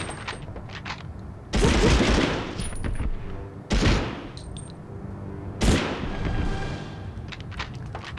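Machine guns fire in a Medal of Honor war game, with three loud sustained bursts of rapid gunfire separated by quieter stretches that carry fainter scattered shots.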